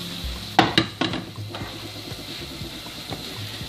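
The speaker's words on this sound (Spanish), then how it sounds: "vamos a proceder a vaciar nuestros champiñones" Cooked mushrooms tipped from a pan into mushroom-and-vegetable broth: a few sharp metallic knocks and scrapes of the cookware near the start, then a soft, steady sizzle and bubbling, with no speech.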